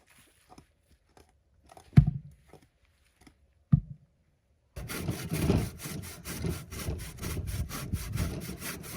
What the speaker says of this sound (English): Why would we cut with a handsaw, you ask?